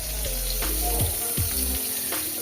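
Half-boiled potatoes fry in hot oil with a loud, continuous bubbling sizzle. The sound is close and unbroken, with a few soft knocks and shifts as the pieces move, and no talk.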